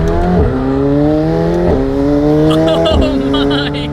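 A McLaren 720S supercar with a sport exhaust accelerates hard and loud and close, its engine note climbing steadily through three quick upshifts, each one dropping the pitch before it rises again.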